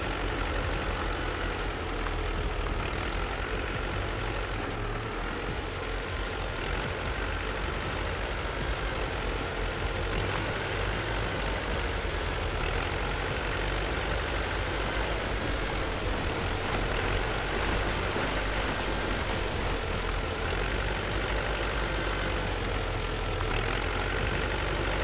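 A T-40AM tractor engine in the video game Spintires: MudRunner drones continuously at a steady, fairly loud level for the whole stretch, without pauses or speech.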